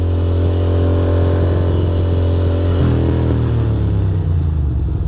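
A Ducati Monster 620 motorcycle engine idles and revs loudly up close, a steady throbbing burble with a rise in pitch midway, then settling back to a lumpy idle.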